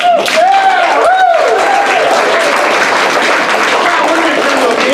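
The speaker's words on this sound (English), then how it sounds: "Nice round of applause." Applause from an improv comedy audience fills the room, loud and steady throughout, with a voice briefly speaking over the clapping near the start.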